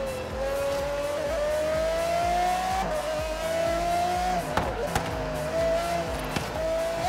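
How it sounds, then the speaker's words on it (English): An Aston Martin Vulcan racing in Forza Horizon 3 gives a loud, steady engine drone that climbs slowly in pitch, broken by a few sharp exhaust cracks and pops near the end, with no talking. "Cracks and pops."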